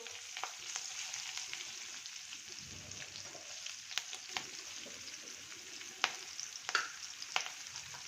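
Curry leaves and green chillies sizzle steadily in hot oil for chana chaat, a soft continuous frying hiss with faint crackles and a few sharper pops near the end, no voices.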